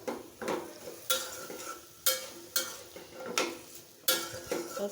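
Drumstick pieces (moringa) being sautéed in a pan for a thin rohu fish curry, with a spoon scraping and stirring in regular strokes about once a second and a soft sizzle underneath, close and moderately loud.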